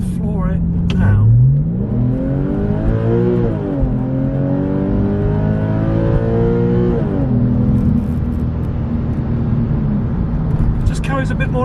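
A Porsche 996 fitted with a Fabspeed Cargraphic valved exhaust accelerates at full throttle, its engine note climbing through the revs in long rising sweeps, loud and close for several seconds, with brief speech at the start and end.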